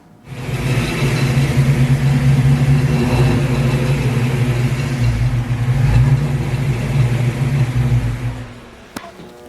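Car engine revving on a first test drive during preparation for autocross racing, a loud sustained mid-pitched drone that holds steady for most of the clip before dropping away near the end.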